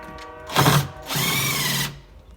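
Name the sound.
drill driving GRK trim head screws through shims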